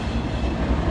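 A CSX autorack freight train with a DPU locomotive rolls past at close range in Fostoria, Ohio, a loud, steady low rumble of rail cars and wheels with no one talking.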